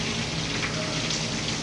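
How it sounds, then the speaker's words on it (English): Rain comes down steadily in an even, continuous patter, fairly close and alone for a brief moment. "We're watching it rain."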